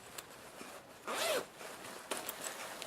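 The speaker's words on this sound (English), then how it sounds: "There's a zipper inside." A zipper on a pink stenciled fabric bag with ribbon handles makes one quick, close zip partway through, with a few faint rustles around it and no talking.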